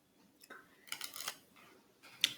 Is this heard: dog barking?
no